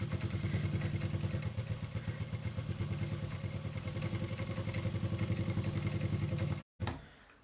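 A sewing machine stitches a cathedral windows quilted table runner with a fast, steady mechanical whir and rhythmic pulsing. It stops abruptly, then briefly starts again, with no talking.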